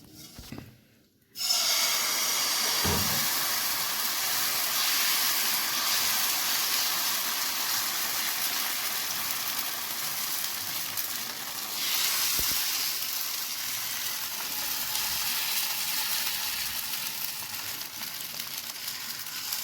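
Oil sizzles steadily in a hot pan on a low gas flame while patishapta is cooked, a loud continuous frying hiss that holds for the whole stretch after a brief quiet start.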